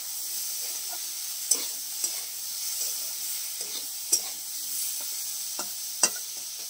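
Boiled yam and taro are stirred and mashed in a frying pan with tilapia, with a steady sizzle of hot oil under occasional soft scrapes and taps of a spoon against the pan, close by.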